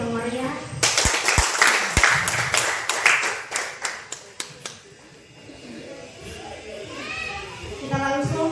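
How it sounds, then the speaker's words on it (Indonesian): An audience applauding at a Bible-reading contest: a burst of sharp claps that thins out into scattered hand claps, followed by crowd murmur and children's voices. "Sekali lagi kami berikan aplaus yang meriah."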